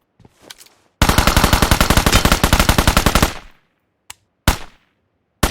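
Rapid automatic gunfire in PUBG Mobile, a loud continuous burst of roughly two seconds, then a few isolated single shots after a short pause, with no talking.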